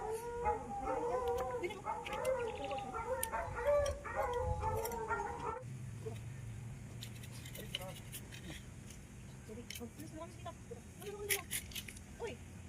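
Dogs howl in long wavering cries, several voices overlapping, then the howls give way to scattered sharp sounds, faint whimpers and some talking.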